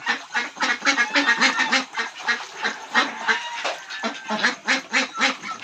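Pet Pekin ducks in a backyard quack loudly and repeatedly in a rapid, overlapping chorus of honking calls, close by and continuous with no pause.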